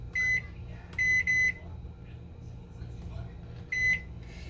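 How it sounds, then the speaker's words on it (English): A convection oven timer being set for heat-pressing a sublimation pen gives four short, sharp electronic beeps: one single, then a quick pair, then one more after a pause, over a low hum. "Let me set the timer."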